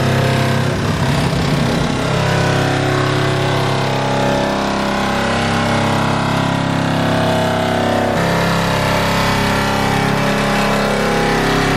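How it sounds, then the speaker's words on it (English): A nibbler cuts through a van's sheet metal for a window opening, giving off a loud, continuous, engine-like buzzing drone that holds steady throughout. "He's using a nibbler to cut it"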